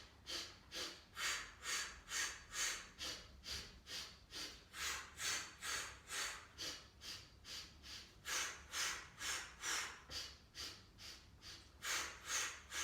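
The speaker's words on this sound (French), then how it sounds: "Vous inspirez 4 fois et vous soufflez 4 fois." Rhythmic breathing drill, around two dozen short, sharp breaths through the nose and mouth in quick regular pulses, close and clear, inhaling four times then exhaling four times with no talking.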